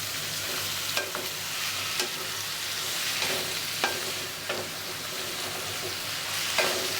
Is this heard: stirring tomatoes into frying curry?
yes